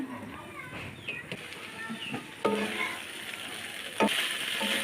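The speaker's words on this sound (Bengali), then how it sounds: "এভাবে নাড়াচাড়া দিয়ে আমি ঢ্যাঁড়সটা দেখছি" Okra frying in a pan sizzles steadily up close while a spatula stirs it, scraping and clattering in short bursts, with a couple of sharper knocks against the pan.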